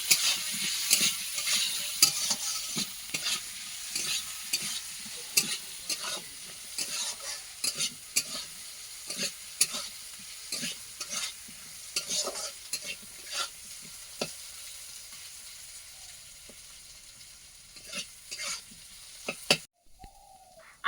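Potatoes with salt are sautéed in oil and stirred in a pan, a soft sizzle punctuated by frequent sharp spatula scrapes and clicks in an uneven rhythm, close and fairly quiet, ending abruptly.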